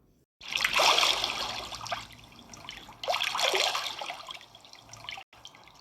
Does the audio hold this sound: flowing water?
yes